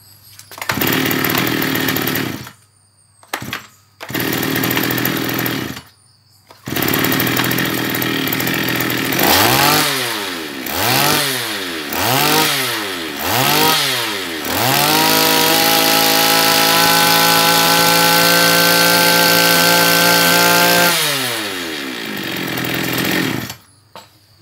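A Komatsu BC2310 23cc two-stroke brush cutter engine starts with a few short bursts, then revs up and down repeatedly before settling into a loud, steady high-pitched drone and cutting off near the end.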